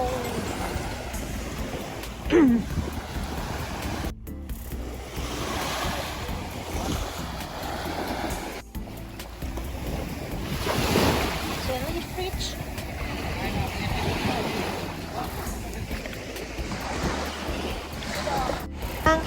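Sea waves wash onto a beach in Dubai as steady surf, with wind buffeting the microphone throughout and a few brief bumps and clicks along the way.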